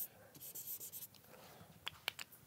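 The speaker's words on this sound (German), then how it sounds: "Ich unterschreibe das Spiel, das Ding hier nochmal eben." A pen scratches across paper while signing, a series of quiet, close scraping strokes with short pauses and a few sharper flicks near the end.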